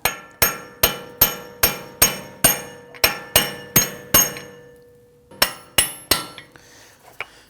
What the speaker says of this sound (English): Then we're going to use a brass punch here.